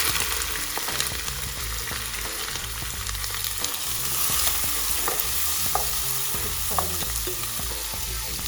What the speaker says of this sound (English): We're going to fry these onions for 4 to 5 minutes until they are well fried